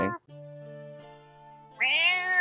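Several people imitate cat meows in unison, rising and falling whining voices under a steady tonal drone, with a brief meow, a pause, then a longer loud drawn-out meow at the end.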